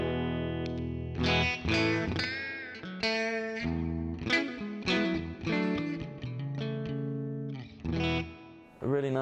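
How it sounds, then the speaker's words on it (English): Electric guitar through a Yamaha THR10C practice amp, chords and single notes ringing out with a wet, splashy spring reverb tail, fairly loud, no talking. "A really nice spring reverb,"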